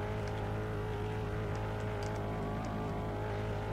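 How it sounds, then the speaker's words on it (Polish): A car in the Roblox video game drives and slides without traction control, a steady engine hum running throughout with a few faint high squeaks of tyres slipping. "Ale się ślizga ten samochód. Nie da się nim jechać."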